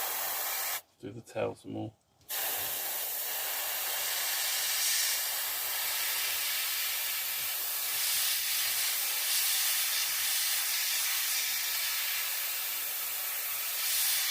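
A Gaahleri Seeker airbrush sprays paint in a long, steady, close hiss that runs almost unbroken after a short opening where a person speaks briefly.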